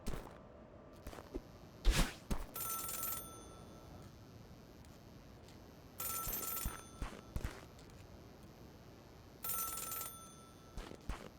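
An old telephone rings in the video game Celeste, with three bursts of bright electronic ringing spaced a few seconds apart, over soft game ambience with scattered clicks and thuds.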